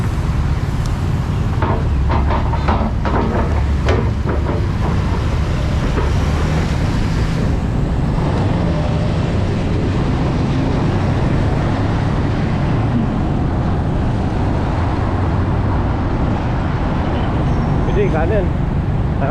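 Road traffic around a motorcycle ride in Quezon City, heading toward C5 Pasig, forms a steady loud roar of engines and road noise with passing vehicles throughout, and speech is picked up over it.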